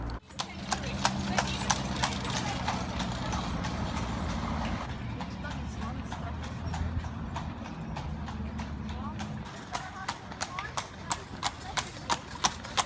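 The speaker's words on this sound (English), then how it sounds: "are they controlling the horse correctly?" A horse clip-clopping on a road while pulling a carriage, steady rhythmic hoofbeats close by, with people talking over them and traffic noise behind.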